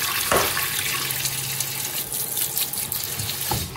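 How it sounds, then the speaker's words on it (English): Little neck clams rinsed under a cold running tap, a steady close gush of water with shell clinks and splashes, no voice. "I'm just washing them in cold water to get all the sand off."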